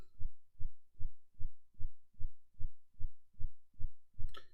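A heartbeat playing behind a crypto live stream: about eleven even, deep double thumps in a slow steady rhythm, close and clear, ending with a brief brighter noise.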